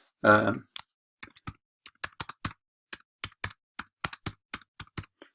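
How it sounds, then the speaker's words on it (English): Typing on a computer keyboard: a short voice first, then sparse, irregular close key clicks in small bursts against silence. "we simply type in whatever it is that we want to type"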